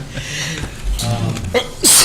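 A single sharp sneeze bursts out near the end, loud and close, after a stretch of low background murmur at a board of health meeting.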